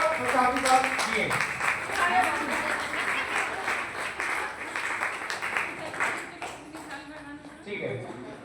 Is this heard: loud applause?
yes